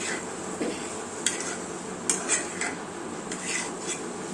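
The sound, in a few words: mixing mashed potato masala filling in a pan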